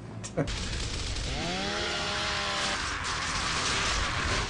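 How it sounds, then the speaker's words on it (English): The chainsaw bayonet on a gun in Gears of War revs up with a rising mechanical whine, then grinds at a steady pitch over a noisy game backdrop, preceded by a sharp thump. "Want to see the chainsaw again?"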